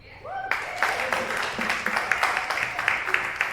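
Studio audience on the Red Barn stage applauding to welcome a band, a burst of clapping that starts abruptly and carries on steadily, with a voice speaking briefly at the start.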